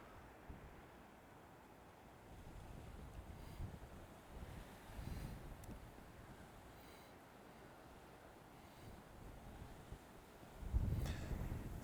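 Wind buffets the microphone over a low, rushing wash of rough sea surf off Antigua, faint and steady, with a heavier gust near the end.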